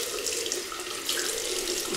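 Water runs from a tap into a sink at a shaving basin, a steady close hiss and splash that continues for the whole moment with no talk.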